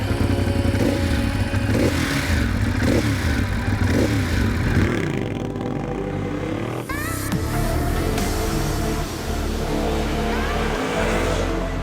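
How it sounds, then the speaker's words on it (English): A Ducati Monster 821 street naked motorcycle revs hard through a new aftermarket exhaust, its loud, close engine rising and falling in repeated throttle blips with a steady rumbling idle between. "coupled with this new exhaust, it sounds bloody good as well"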